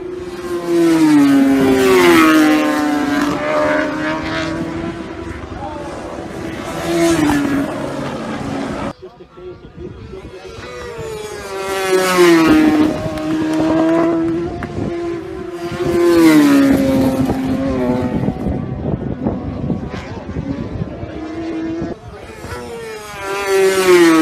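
Racing motorcycles on the final lap of the Isle of Man TT, loud high-revving engines rising and falling as they scream past with gear changes, a brief dip before the roar returns.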